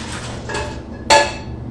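A single brief clatter of food and utensil against a Pyrex glass dish, a sharp ringing knock standing out after quieter kitchen sounds. The soup is chilled turmeric carrot ginger and the fish is marinated pan-seared halibut.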